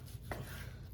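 A knife slices through tender sous vide pork belly, cooked for 12 hours, giving one soft cutting stroke over a steady low background hum.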